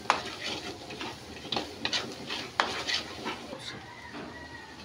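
Egg being stirred and fried in a pan for shrimp fried rice: soft sizzling under repeated scraping and clinking of a utensil against the cookware, close and intermittent, with no talk.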